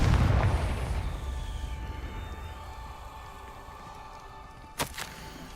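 A Confringo blasting spell from the video game Hogwarts Legacy erupts in a loud booming burst at the start, then decays into a long rumbling tail, followed near the end by a sharp crack.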